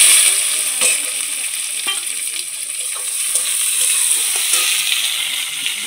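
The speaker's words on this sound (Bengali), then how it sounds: "এবারে তেলের মধ্যে দিয়ে দেবো পেঁয়াজ" Onions dropped into hot oil with cumin for a chicken and potato curry, a loud continuous close sizzle with light stirring clicks throughout, no talking.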